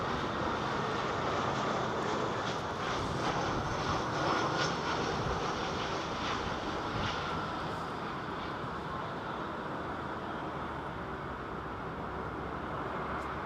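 A British Airways airliner arriving from Milan on approach to land at London Heathrow, its engines a steady, broad roar with a faint whine, loud and sustained throughout with no talk.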